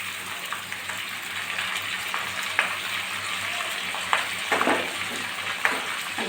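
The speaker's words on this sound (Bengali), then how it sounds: "সেই গুঁড়ো ডিমগুলো আমি আলুর ভিতর দিয়ে দেবো" Potatoes with crumbled egg fry in a pan, giving a steady, moderate sizzle with occasional sharper crackles and pops scattered over the hiss.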